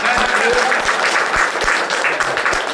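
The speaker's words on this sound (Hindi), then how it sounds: "परमेश्वर के लिए एक बार ताली बजाइए।" Church congregation clapping together at a Hindi-language worship service in Arunachal Pradesh, a dense steady wash of hands with faint voices mixed in and a few low thumps, loud and close throughout.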